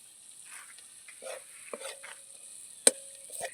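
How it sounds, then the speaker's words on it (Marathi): Spices and seven or eight curry leaves fry in hot oil, a faint, low sizzle with soft stirring scrapes and a sharp metallic clink near the end. "तर हे सगळे मसाले आता तळून घ्यायचे आहेत"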